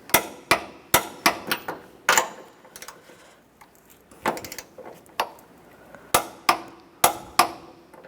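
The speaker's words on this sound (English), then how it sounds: "Now we're going to torque these nuts to 43 foot-pounds." Sharp, irregular metallic clicks and knocks from a wrench on the upper strut nuts of a 1997-2001 Honda CR-V, close and crisp, with some clustered in quick pairs and brief pauses between.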